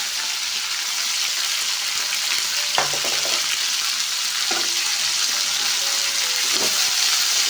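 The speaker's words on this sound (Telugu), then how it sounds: "ఇప్పుడు ముక్కలకి ఈ మసాలా బాగా పట్టేట్టుగా కలుపుకోవాలి" Ivy gourd masala curry with tomatoes sizzling in a pan, a steady close hiss with a few soft scraping stirs of a spoon.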